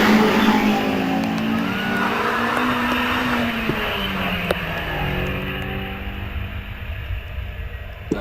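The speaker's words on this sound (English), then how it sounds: "Gary Hills leaves the line" Race car at a British Championship hillclimb at Doune pulling away from the start line, a loud engine roar that climbs through the revs and slowly fades as it moves off.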